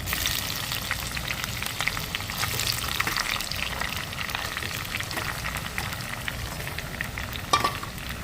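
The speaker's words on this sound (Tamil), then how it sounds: "இனி இதுலேயே கறிமிளகாயும் பொரிச்செடுப்போம்." Green chillies fry in hot oil in a home kitchen, a steady dense crackling sizzle that runs throughout with small pops, heard up close and alone.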